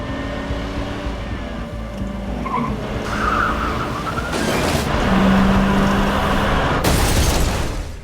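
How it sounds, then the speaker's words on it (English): Tires skid and squeal loudly as Betty's car is driven into the front of Dan's house in a TV drama scene, a sustained screech over engine noise with a crash-like burst midway. "Betty drove her car into the front of Dan's house"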